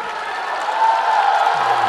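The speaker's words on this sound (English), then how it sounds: "the Chinese crowd giving their team a big round of applause for a valiant effort through the game" A Chinese crowd at a curling match gives a steady round of applause, dense clapping that swells slightly partway through, with a faint voice at the end.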